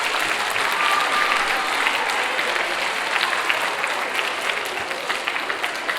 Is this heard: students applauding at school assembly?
yes